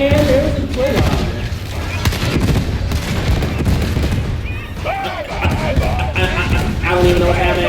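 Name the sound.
explosions in the video game Arbites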